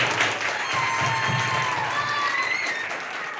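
Audience applause at an Azadi ka Amrit Mahotsav cultural event with rangoli and mehndi competitions, a steady, dense wash of clapping from a crowd that holds for the whole stretch, tapering only slightly at the end.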